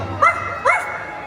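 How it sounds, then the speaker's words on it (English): A dog gives two short, bright yips or barks at a Halloween party show, fairly close and clear over a faint background hum. "Where is that dog?"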